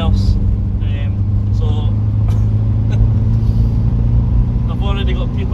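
A Volkswagen T2 campervan engine drones steadily while driving, a low rumbling hum heard from inside the cab, loud and constant, with someone talking over it.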